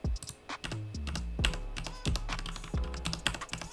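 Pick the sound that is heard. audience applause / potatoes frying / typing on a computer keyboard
typing on a computer keyboard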